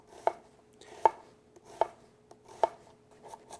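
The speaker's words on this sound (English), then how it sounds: "You make a series of parallel cuts, and then you simply cut across" A Nakiri knife chops an onion on a board, with four or five crisp, evenly spaced knocks, close and clear, then a couple of softer taps, no voices.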